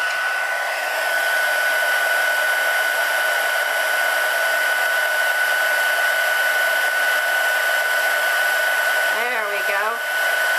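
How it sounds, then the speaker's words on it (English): A heat embossing gun blows hot air in a steady, loud whoosh with a constant whine, running continuously throughout before a brief wavering near the end. "so let's just take and heat emboss this"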